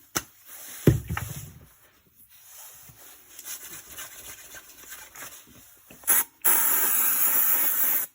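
An aerosol can of degreaser cleaner sprays onto parts of a Sony minidisc system, several hissing bursts of varying length, the last one loud and sustained, with quiet handling noises between.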